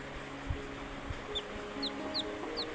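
A hen clucks softly at a farm at night while newly hatched chicks peep in a few high, brief cheeps over a quiet, steady background hum.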